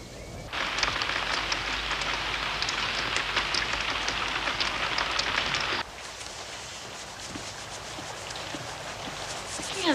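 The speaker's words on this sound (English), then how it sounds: "We have nothing to do when it rains." Steady rain falling and pattering on surfaces, a loud dense hiss that drops abruptly to a softer, thinner patter partway through, with no voices.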